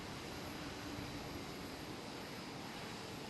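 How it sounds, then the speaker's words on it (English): Air Canada Airbus A330 airliner at Amsterdam Schiphol, heard as a faint, steady, distant engine roar with broadband rumble holding constant throughout. "Air Canada A330"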